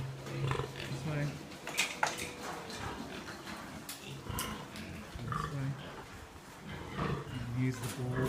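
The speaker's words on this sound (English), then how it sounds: "So here are some of the sows, some of the younger, older pigs," Sows and younger and older pigs in pens on a pig farm, with low grunts and snorts mixed into constant farmyard noise and someone talking over them.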